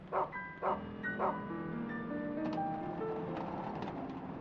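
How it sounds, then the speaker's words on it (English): A dog in the video game Rule of Rose barks three times in quick succession, close and clear, followed by soft, sustained melodic tones. "This dog is not exactly motivated for chasing a rabbit, is it?"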